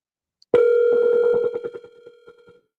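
Telephone tone heard while calling a number, a loud steady electronic tone of about a second that breaks into a stuttering, fading pulse, close and with no talking.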